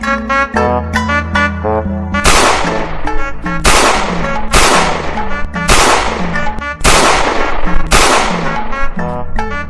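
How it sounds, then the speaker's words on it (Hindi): Six gunshots ring out in a dramatic scene as attackers shoot at an elderly grandmother: loud, sharp bangs spaced about a second apart, each followed by a brief decay, over tense background music. "6 गोलियां मारी हैं, 4 तो लगी होंगी।"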